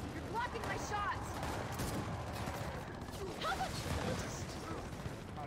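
Gunfire in a shooter video game, with steady bursts of shots and impacts clustering into a continuous fusillade at moderate distance under a busy, noisy battle bed, with people talking over it.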